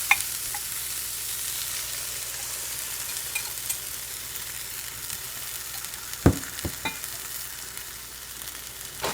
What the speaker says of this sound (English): so now I'm going to add the eggs